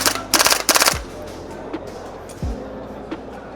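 A Strike Industries EVO PCC gas blowback airsoft gun fires two short, loud full-auto bursts of sharp, rapid cracks up close. A few quieter knocks and handling sounds follow.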